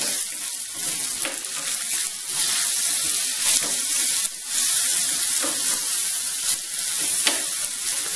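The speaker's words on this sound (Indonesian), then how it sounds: "Kita akan masukkan tomat ya, tomat yang udah saya iris rajang menjadi berapa bagian ini ya. Kita aduk-aduk lagi." Sliced tomatoes being stirred into pumpkin frying in a pan give a steady, close sizzle, with scraping stir strokes and small clatters recurring throughout and no talk.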